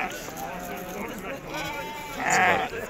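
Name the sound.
sheep bleating at livestock market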